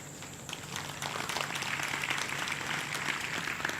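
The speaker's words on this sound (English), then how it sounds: "All Tamil people are clapping." Faint, dense clapping from a distant crowd, a steady patter of many hands without voices standing out.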